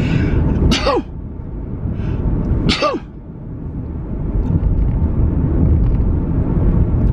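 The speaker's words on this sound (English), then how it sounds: "Sneezes coming threes, right?" Two sharp sneezes about two seconds apart, loud and close, each with a rising intake and explosive burst, over steady background hum.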